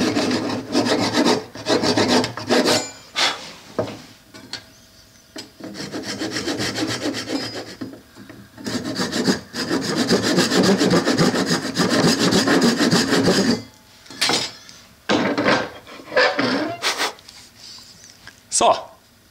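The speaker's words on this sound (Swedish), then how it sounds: "och så sågar du." A hand saw cuts through a wooden lathe blank held against a support block: rhythmic rasping back-and-forth strokes, loud and close, with short pauses and someone talking between bursts.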